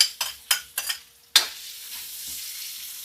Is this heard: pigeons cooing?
no